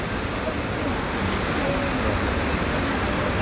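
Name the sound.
heavy rain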